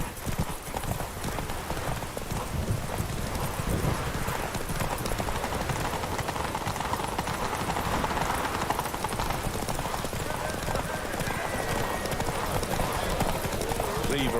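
Roach, Geralt's horse in the video game The Witcher 3, gallops with steady, rapid clip-clop hoofbeats throughout, sitting over a constant dense game soundscape; voices talk faintly underneath.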